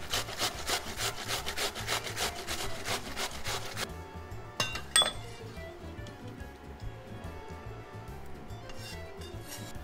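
A raw sweet Spanish onion rubbed against a grater in a home kitchen, with steady rapid rasping strokes for about four seconds, then a couple of sharp clinks and a quieter stretch of faint scraping.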